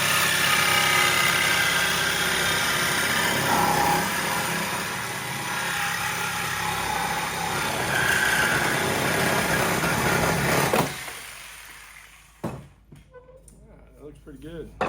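An MBRP exhaust pipe for a 2017 Ford Mustang GT Coyote 5.0, clamped in a vise, is cut with a loud, steady, grinding whine that runs for about eleven seconds, then stops, leaving quieter clatter and handling noises.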